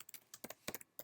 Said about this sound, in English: So this is just the name I'm typing.